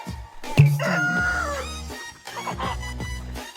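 Chickens in the UG VR video game, a loud game sound effect of a rooster crowing and clucking that carries through most of the short stretch, with no talk over it.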